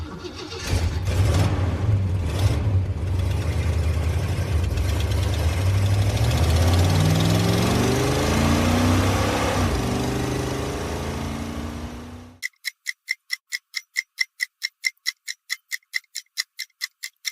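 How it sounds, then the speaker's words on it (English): A Ford muscle car engine idling with a deep, throaty rumble that rises in a couple of revs near the end, heard up close, then a rapid ticking countdown takes over. "Deep muscle car rumble."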